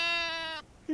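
A voice imitates a sheep on a farm in a children's television show, giving one short, wavering nasal bleat that stops abruptly.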